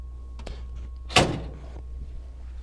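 Left-hand side door of a KIP 660 wide-format printer opens with a single solid clunk, a short sharp latch release followed by a brief fading rattle, heard close over a steady low machine hum.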